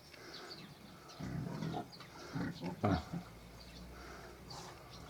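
Several low, rough grunts from week-old Mangalica piglets come in short bursts close by, over a faint background hum.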